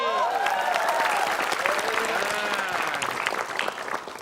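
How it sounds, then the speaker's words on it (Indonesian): Audience applause on a comedy show, a dense burst of clapping from a crowd that holds steady for a few seconds and then starts to thin out toward the end. "Tepuk tangan nunggu nih"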